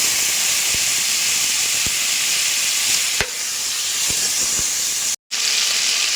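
Potatoes go into hot oil with bay leaf and cumin and fry with a loud, steady hiss and sizzle, a few soft clicks and knocks from the pan, and no talk.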